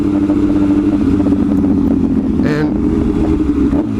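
A motorcycle of about 430 to 450 pounds with nearly 40,000 miles runs steadily at a loud, close rumble, with a brief rising rev partway through, while someone talks over it.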